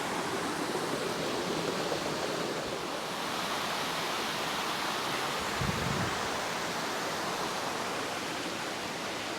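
The Leura Cascades waterfall gives a steady, broad rushing hiss of falling water, even and continuous throughout, with nothing else standing out.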